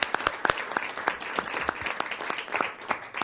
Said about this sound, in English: May we give him a round of applause.